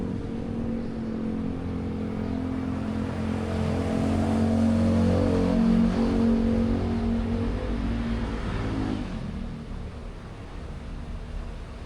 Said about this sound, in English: These bikes are flying past me.